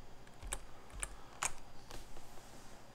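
Computer keyboard arrow keys are pressed on an Arch Linux desktop, four crisp separate clicks about half a second apart, close but fairly quiet, with no talking.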